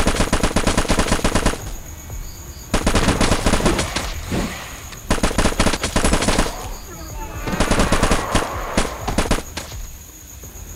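Rapid bursts of video-game gunfire blast at a zombie, loud automatic volleys repeating in several long stretches with brief gaps between them.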